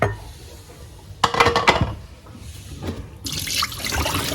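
Water sloshes and splashes as wheat grain is swished and rinsed, with a brief louder splash midway and steady running water toward the end.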